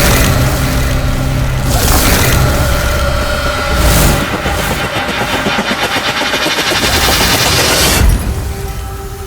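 Gunfire in a dramatized courtroom crime reenactment, with loud, dense bursts of shots and booming impacts filling the scene, briefly thinning and then swelling again near the end, with no talking.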